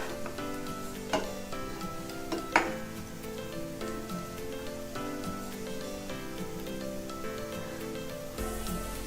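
Bread cheese balls fry in hot oil and are turned over, giving a continuous soft, crackling sizzle with a couple of brief knocks from the turning utensil. It is fairly quiet and there is no talk.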